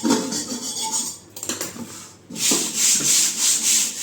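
A knife scraping burnt residue off a black iron kadai, heard as harsh, loud metallic rubbing strokes with a brief pause, then steady rhythmic back-and-forth scraping, close up and without speech.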